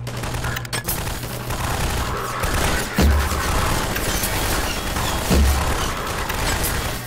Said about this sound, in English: Heavy fire, man.